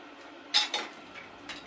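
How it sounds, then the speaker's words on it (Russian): A few sharp clinks of cutlery and dishes being handled while washing up in a home kitchen, loud and close, spaced apart with quiet between them and no talking. "Мне надо мыть посуду."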